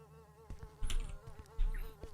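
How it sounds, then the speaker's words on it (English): Bees buzz in the video game Beyond The Evil, a continuous droning hum with a few soft thumps and footstep-like knocks, fairly faint, no speech. "maybe it's safe to go in amongst the bees"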